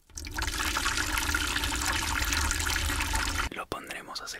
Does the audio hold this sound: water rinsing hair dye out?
yes